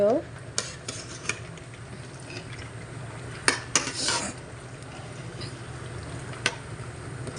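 A large batch of marinated mutton and chicken is stirred in a pot, with a steady low bubbling and simmering bed under repeated sharp clanks and scrapes of a spoon against the metal.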